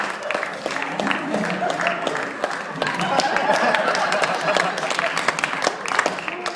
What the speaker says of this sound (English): Get folks round of applause.